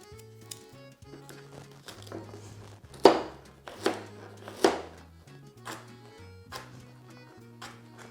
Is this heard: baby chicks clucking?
no